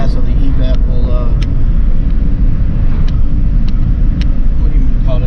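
A 2006 Chevy HHR cruises on a road at about 50 mph, giving a steady, loud engine and road rumble that runs throughout with no break, close and constant.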